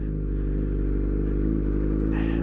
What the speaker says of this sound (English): I'm riding my R1 after changing my own clutch and inner clutch basket.